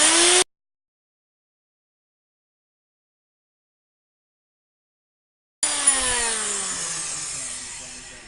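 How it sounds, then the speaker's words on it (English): An abrasive cutoff wheel slices through a steel tie rod for an electric vehicle build, a short loud burst of grinding, then silence, then a long sustained screeching cut that slowly fades as the wheel spins down. "Now we'll cut it. With our handy dandy cutoff wheel."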